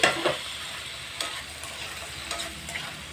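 Garlic and small-cut tomato pieces fry in a pan with a continuous close sizzle, broken by a few sharper spatters and stirring scrapes.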